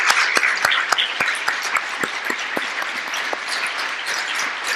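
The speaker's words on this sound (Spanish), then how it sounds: "Denle un aplauso al Señor porque esto es glorioso" A church congregation applauds together, many hands producing a continuous patter of claps with sharp individual slaps standing out, steady for several seconds.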